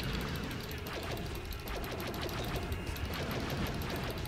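Rapid, continuous blaster fire aimed at spaceships in the video game Star Wars Battlefront II, set on Dagobah, forms dense repeating bursts over a busy, noisy battle backdrop, with no pause across the stretch.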